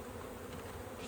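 A swarm of honey bees caught from a bush drones in a continuous, even buzz, close and steady throughout with no voices.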